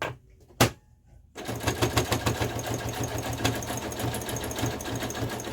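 A sewing machine fitted with a ruffler foot stitches ruffle layers onto an upcycled patchwork skirt, starting after a short quiet stretch and a single tap, then running in a fast, steady mechanical chatter up close, with no talking.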